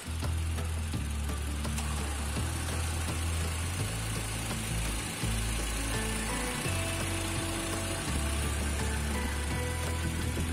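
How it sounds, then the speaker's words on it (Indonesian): A 2007 Toyota Fortuner's 2.7-litre four-cylinder DOHC 16-valve petrol engine (2TR-FE VVT-i) runs steadily at idle, a loud close low hum and vibration that carries on unbroken throughout. "jadi ini adalah mesinnya, 2700 bensin"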